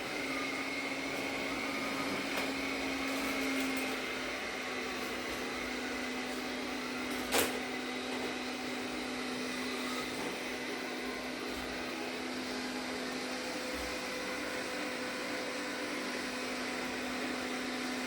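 An Arnagar S8 robot vacuum cleans carpet in boost suction mode, its steady motor whine and airflow hum continuing at a moderate level, with one brief click partway through and no voices.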